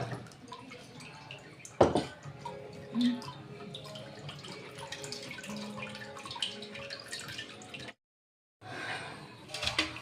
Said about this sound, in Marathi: त्यातच हे हिरवा पेस्ट मी केला आहे तो गाळून घेणार आहे आता